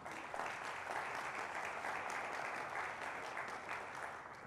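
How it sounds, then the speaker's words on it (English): A crowd applauds at the TCS NYC Marathon Blue Line ceremony. The clapping is dense and even, stays at a steady level, and sounds somewhat distant, with no voices above it. "I think Pia and Kyle really deserve another round of applause."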